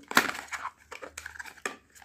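A Cefxo dry syrup medicine box being opened: a sharp crunch of cardboard followed by a few softer crinkles and taps of packaging, close and fairly quiet.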